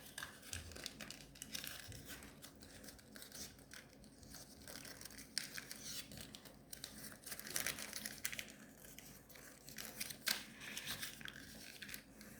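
Paper folded by hand for an origami dragon, pressed as far as it will go: close, continuous crinkling and rustling punctuated by crisp creasing snaps, with no one talking.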